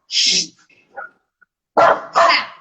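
Dogs bark in short, loud, close bursts: a sharp opening yap, a few faint whimpers, then two heavier barks in quick succession.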